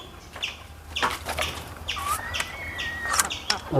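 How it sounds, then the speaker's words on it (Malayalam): Spotted native hens in a backyard coop flap their wings in several short bursts, with faint clucks and chirps and a thin high whistle-like call mixed in, fairly close. "ഇപ്പോൾ ഇവിടെ കുറച്ച് പുള്ളിക്കോഴികളാണ് ഉള്ളത്"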